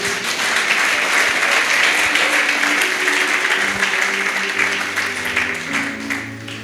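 A church congregation claps loudly in acclaim of the Lord, a dense, continuous burst of applause from many hands that begins to fade near the end.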